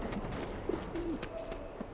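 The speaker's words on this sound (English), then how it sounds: "A coop is really just a cage, but the birds don't seem to mind." Birds coo softly in a coop in the video game Alice: Madness Returns, a few short low calls over a quiet ambient background, with no talk.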